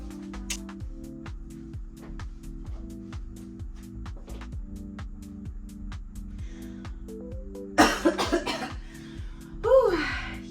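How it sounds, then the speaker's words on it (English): A woman coughs twice, sharp and close, over steady background music with a low rhythmic beat. "let's get that cough out"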